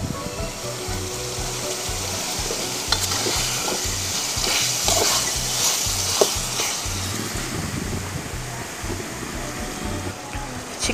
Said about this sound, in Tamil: சிக்கன் கொஞ்சம் வேகட்டும், தண்ணி எதுவுமே சேர்க்க தேவையில்லை.